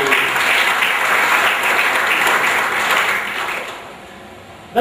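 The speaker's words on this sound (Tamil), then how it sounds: "அவங்களுக்கு ஒரு பெரிய கரகோஷம் கொடுக்குமாறு." A big round of applause for organizing committee members at a gathering, loud dense clapping that holds steady for several seconds, then fades and breaks off near the end.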